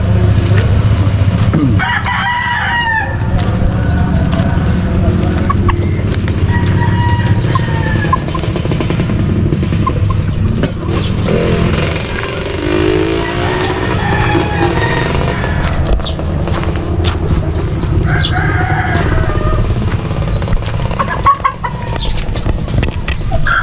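A rooster crows loudly a few times amid clucking fowl and flapping wings, with constant low background noise throughout.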